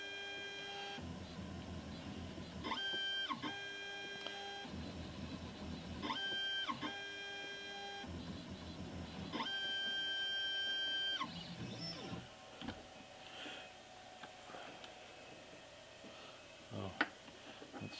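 A spring-loaded diamond engraver runs in repeated short bursts of high buzzing tone while engraving a metal vise in a quiet workshop, with pauses and light handling noise between passes.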